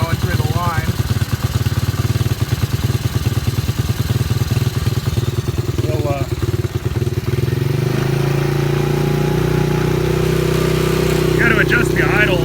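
A Chinese quad ATV engine idles up close with a fast, uneven chugging that smooths into a steadier, lower hum partway through, running loud throughout while someone talks over it.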